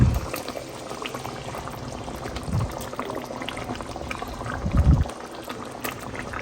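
Egg curry with poppy seed paste thinned with water simmering in a pot, a steady close bubbling with a few louder popping swells, no voices.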